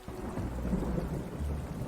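Spring rain falls steadily in an Iberian forest while a low rumble of thunder rolls underneath, a continuous, fairly loud outdoor storm with no voices.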